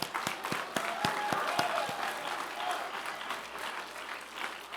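An audience at a youth leadership summit applauds. The sharp, close hand claps are distinct at first, then blend into a steady wash of clapping from the crowd.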